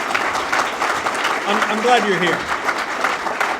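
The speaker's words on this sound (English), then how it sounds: "So give this guy a round of applause." A round of applause for Senator Thune at an I-29 interchange groundbreaking, steady crowd clapping throughout with someone speaking over it.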